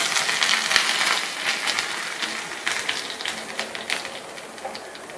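Mustard seeds splutter and pop in hot oil in a pan, a dense continuous crackle of rapid sharp snaps, close and fairly loud, gradually easing slightly.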